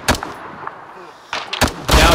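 Gunfire in the military shooter Arma 3 during a firefight with a tank: a few sharp, loud shots spaced apart, then a dense burst at the end, with no talking.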